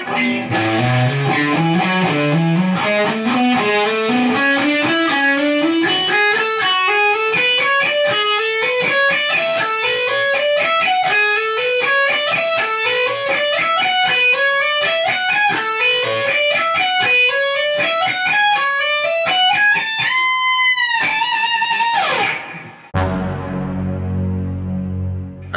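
A loud, distorted electric guitar plays a long run of rapid notes climbing steadily upward, ending in a sustained bend and a brief change of tone.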